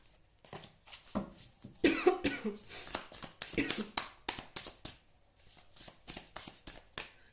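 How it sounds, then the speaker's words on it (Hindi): Tarot cards being shuffled and drawn from a deck: a run of crisp, papery riffles and soft taps, close and fairly quiet, with a few coughs and throat sounds mixed in. "चलिए कुछ कार्ड और निकालते हैं।"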